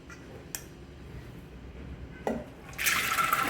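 Water pours into a pressure cooker holding soaked beans, a quiet room with a couple of small knocks before a rushing stream of liquid starts near the end and keeps flowing.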